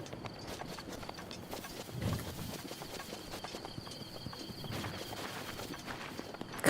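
Horse hooves clop in a steady walking rhythm in Zelda: Breath of the Wild, moderately near under ambient game sound, with no voices.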